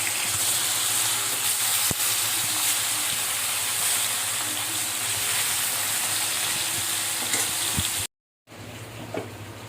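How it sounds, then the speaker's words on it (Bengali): Pointed gourd sautés with potatoes in a pan, a loud continuous hiss and sizzle heard up close. The sound cuts out briefly near the end, then resumes. "পটলটা আমি কষিয়ে নিচ্ছি।"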